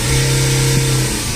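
A BMW F10 sedan's engine, just repaired for an EGR fault, revs loudly and close by, holding a steady droning tone with a slight rise and fall and no voices.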